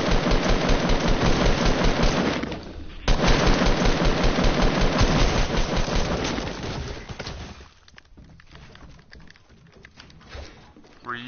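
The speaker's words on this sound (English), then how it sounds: "Were you just shooting over here, Dad?" Rapid automatic gunfire rattles in a video game, dense and loud bursts that stop briefly, resume, then thin out into scattered distant shots as a voice talks over them.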